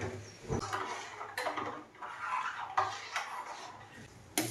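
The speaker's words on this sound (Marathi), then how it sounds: "आता हे जे काय दूध आणि साखर आहे ते मी गॅसवरती ठेवणार आहे आणि साखर वितळेपर्यंत आहे ना असं हलवत राहणार आहे" A spoon scrapes and clinks against a pan while milk and sugar are stirred on a gas stove, giving repeated close metallic knocks and scraping strokes at an uneven rhythm, with no voices.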